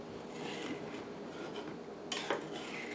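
Sausage milk gravy being stirred in a pan with sausage and grease, a steady low scraping and swishing, with a couple of sharper clinks of the utensil against the pan near the end.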